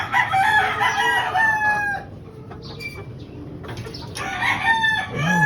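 Chickens and roosters in a dirty, storm-damaged coop, several roosters crowing in long drawn-out calls one after another, some near and some farther off, with clucking between them and no talk.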